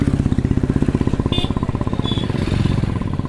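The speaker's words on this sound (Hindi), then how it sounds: "देखिए भाई ये बड़ी बड़ी बाइक है" Big motorcycles run close by, their engines giving off a loud, steady, rapid thumping pulse throughout, with a brief high squeak partway through.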